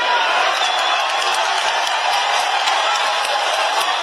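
Crowd clapping and applauding at a public gathering in Kenya, a dense, steady wash of hand claps sustained loudly throughout with faint cheering mixed in.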